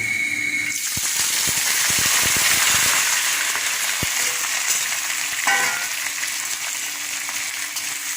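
Prawns hitting a hot oiled pan with stalks and frying in a loud, steady sizzle, with a few sharp crackles and stirring knocks near the start, no voices.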